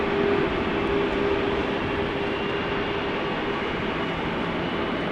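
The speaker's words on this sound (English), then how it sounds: "GE90 is spooling up." A GE90 jet engine spooling up at rainy Amsterdam Schiphol Airport, a steady, loud broadband roar with a faint sustained tone, continuous and without voices.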